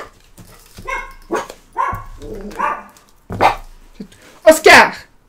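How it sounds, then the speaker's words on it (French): A dog barks in short sharp bursts indoors, a few yaps and barks scattered between stretches of someone talking, with the loudest barking near the end. "Toujours lui qui aboie."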